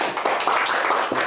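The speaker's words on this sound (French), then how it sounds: "On peut applaudir Bénédicte." Brief applause for a singer who has just finished a song, a short burst of several people clapping in uneven rhythm, moderately close, with no voices over it.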